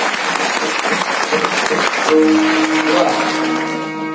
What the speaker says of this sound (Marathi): एकटा यांच्यासाठी जोरदार टाळी वाजवा, जोरदार टाळी वाजवा.